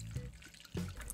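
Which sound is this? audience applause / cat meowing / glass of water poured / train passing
glass of water poured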